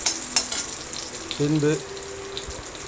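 Coriander, chillies and fenugreek roast in a spoonful of oil in a kadai, crackling and sizzling up close, with a short tonal voice-like sound partway through.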